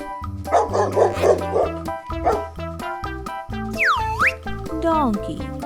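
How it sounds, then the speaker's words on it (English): A dog barks in a quick repeated series of bow-wow yaps over bright, bouncy music with cartoon sound effects. "Dog. It's a dog."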